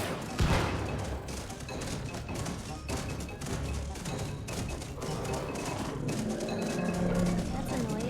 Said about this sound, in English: Explosives happening.